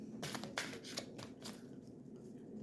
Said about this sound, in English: Let me shuffle in this way.